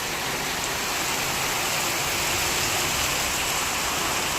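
Heavy rain pours down steadily near a shop, a dense, unbroken hiss that stays loud and even throughout with no voices.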